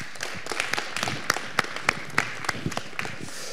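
An audience at a Dutch press-freedom debate claps for a speaker, a soft, scattered patter of hands with a few sharper claps standing out. The applause is modest and fairly even throughout.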